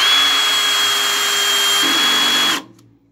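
Parkside Performance 12V cordless drill whirring steadily as it drives small screws, a continuous high motor whine with a slight pitch shift near the end before cutting off abruptly, close and alone.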